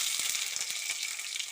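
Green chillies fry in a pan with a brief, steady, bright hiss of hot oil, faint and close with no voices.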